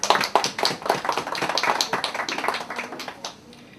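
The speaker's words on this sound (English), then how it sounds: "So please give her a nice round of applause." Audience at a book launch claps in a dense burst of applause, many close hand claps overlapping in a loud, steady patter that thins out toward the end.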